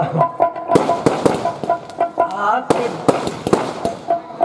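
Firecrackers burst in rapid, irregular sharp cracks, close and loud, with a voice talking underneath between the pops.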